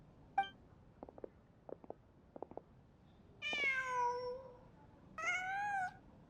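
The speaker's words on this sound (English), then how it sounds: "Huh. Just a cat." A cat meows twice in Genshin Impact, each call a drawn-out, clear mew after a few soft taps and clicks, heard alone in a quiet scene.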